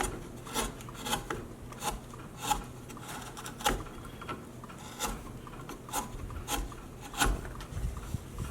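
A wood carving gouge cuts into wood in steady, repeated rasping strokes, roughly one every half second to second, close and moderately loud, with no talking.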